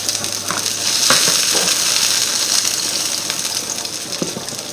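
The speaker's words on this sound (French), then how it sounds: "on fait revenir notre oignon" An onion frying in a pan for apple blood sausages, a steady broadband sizzle with a few stirring clinks, close and continuous with no talk.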